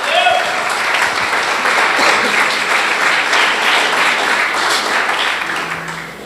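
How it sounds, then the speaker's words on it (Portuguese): A church congregation applauding, a dense, steady wash of clapping from many hands that fills the room for several seconds and then tapers slightly at the end. "Aplauda ao Senhor Jesus."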